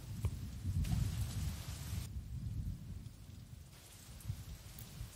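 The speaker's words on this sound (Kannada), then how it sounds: "ಆ್ಯಕ್ಚುಲಿ ಹೊರಗಡೆ ಮಳೆ ಬರ್ತಾ ಇದೆ" Heavy rain falls outside, a steady, moderately loud hiss and patter with low rumbles like distant thunder and no voices.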